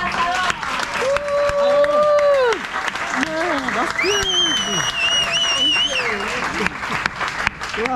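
Applause and cheering for the grill master at a family asado in Argentina, a crowd clapping steadily for several seconds while voices call out and a high tonal whistle or singing rises above the noise.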